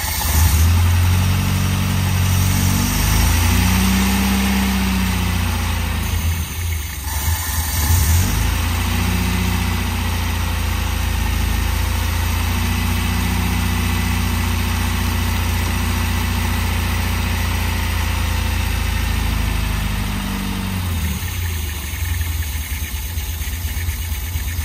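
A new Toyota Hilux engine with badly retarded timing idles loudly and close for a long stretch, a rough rumbling drone with a couple of brief dips and surges, no talking over it.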